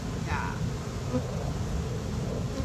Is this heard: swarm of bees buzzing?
yes